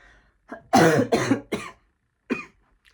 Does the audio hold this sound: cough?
yes